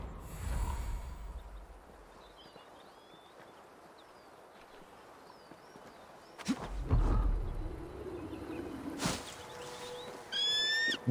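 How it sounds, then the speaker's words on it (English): Bird calls in the video game Assassin's Creed Valhalla, set in the Vinland area, come as scattered chirps over quiet outdoor ambience, with a louder flurry of calls and flapping-like bursts near the end. "That bird was huge."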